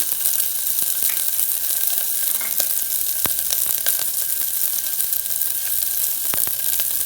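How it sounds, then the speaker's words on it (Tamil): Chopped small onions (shallots) and green chilies frying in hot oil, a steady dense sizzle throughout with a few sharp crackles and pops, loud and close with no voices. "எண்ணெய் சூடானதுக்கப்புறமா நம்ம கட் பண்ணி வச்சுக்கூடிய சாம்பார் வெங்காயத்தை இதில் போட்டுடலாம் அதோட பச்சை மிளகாயும் சேர்த்துடலாம்"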